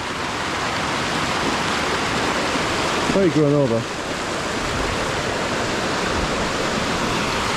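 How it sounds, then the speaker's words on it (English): A full stream rushes steadily close by near the Jajce watermills after heavy overnight rain, a loud broadband wash running throughout, with a brief spoken remark partway through. "stream is quite full now"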